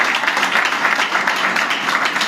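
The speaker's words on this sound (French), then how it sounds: "Si tu veux applaudir, applaudis bien" A church congregation applauding in a dense, steady wash of clapping that fills the whole clip, loud and continuous with no pauses.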